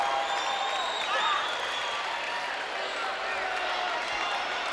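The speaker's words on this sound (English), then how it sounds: "Shelbyville crowd loved that shot." Spectators at a high school basketball game between CHS and Shelbyville cheer and applaud after a shot, a steady wash of distant clapping and crowd noise that stays fairly faint and even throughout.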